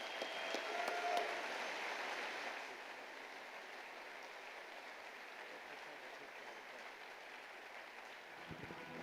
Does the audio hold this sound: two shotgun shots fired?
no